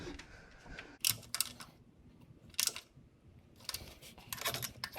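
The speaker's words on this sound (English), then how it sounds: "you can see I'm really just barely using the ratchet to give myself any mechanical advantage" A ratchet tightening valve cover bolts on an engine, giving short bursts of quick clicking at a close distance, separated by brief quiet pauses, with no talking.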